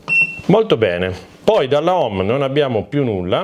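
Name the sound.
key press beep of Fossibot F3600PRO power station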